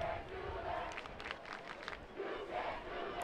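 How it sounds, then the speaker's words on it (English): A football crowd at a high school game shouts and roars from a distance, a sustained muffled din with rising yells. "You can hear the crowd."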